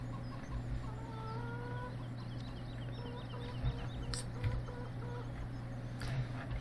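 Chickens and a rooster cluck on a farm in Farming Simulator 17, soft repeated clucks and calls over a steady low hum, faint and somewhat distant.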